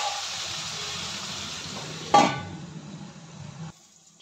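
Onions and cut tomato pieces fry in a pan for a lady's finger curry, with a steady close sizzle, one sharp burst as something is added or stirred, then a softer hiss before quieting.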